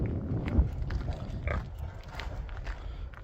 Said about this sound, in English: this is a Berkshire sow we have here. She's about 10 months old.